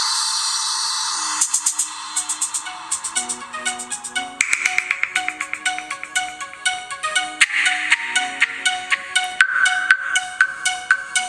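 Melodic ringtone blaring from the loudspeaker of a Ulefone Armor 3T phone at maximum volume, a bright chiming tune of rapid repeated notes that builds in layers and plays continuously and loud with no talking.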